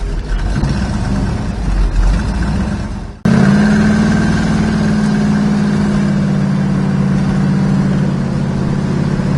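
A 1970 Plymouth Cuda AAR muscle car engine rumbles steadily while driving, a low, throaty drone that holds an even hum after a brief break.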